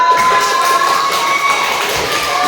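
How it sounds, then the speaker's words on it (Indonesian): Audience applause at a school training session on positive culture, a dense, steady wash of clapping with crowd noise and faint shouts running continuously, loud and close. "Terima kasih buat Mas Al, tepuk tangan."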